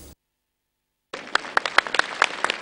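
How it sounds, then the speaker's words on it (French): Applause at a funeral ceremony for a politician breaks out after a second of silence, an outdoor crowd clapping with distinct sharp claps over a steady patter. "Les derniers applaudissements pour un tribun qui aimait les bains de foule."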